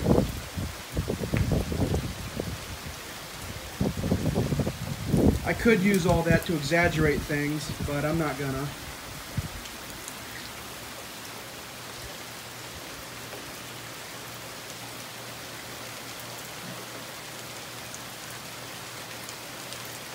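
Long-lasting night rain makes a steady, even hiss throughout. Someone talks over it during the first half, then the rain carries on alone.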